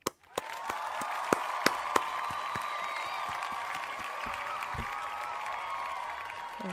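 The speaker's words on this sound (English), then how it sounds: "So round of applause, gamers. Round of applause." A short burst of clapping follows several sharp claps at the start, then a steady wash of crowd-like applause holds at an even level throughout.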